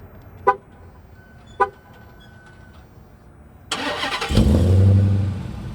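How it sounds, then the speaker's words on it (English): Two short beeps sound in quiet, followed after a pause by a Dodge Challenger Hellcat Widebody's engine cranking via remote start and catching into a steady idle. "you have the ability to turn the car on from a stop"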